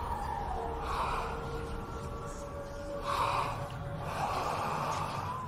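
Heavy, hollow breathing in the Hellblade video game, like air drawn through a bag, with several slow gasping inhales and exhales rising and falling at close range, no talk.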